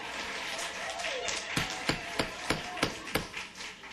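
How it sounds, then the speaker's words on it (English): An audience at a council meeting claps, a scatter of hands at first, then about seven sharper, fairly loud claps ring out in an uneven rhythm. "I'm going to have to ask you to please refrain from clapping and from cheering."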